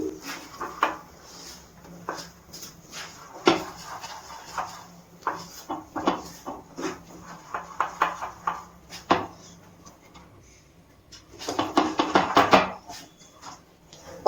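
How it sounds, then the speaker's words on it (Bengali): Ghee being stirred into thick moong dal halwa in a pan, with irregular clacking and scraping of a spoon against the pan, busy bursts of stirring separated by brief pauses. "ঘিটা ভালো করে মিশিয়ে নিচ্ছি।"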